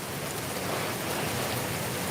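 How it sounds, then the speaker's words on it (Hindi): Heavy monsoon rain in Darbhanga pours down in a dense, loud, unbroken hiss, steady and close with no voices. "देखिए किस रफ्तार से बरसात हो रही है"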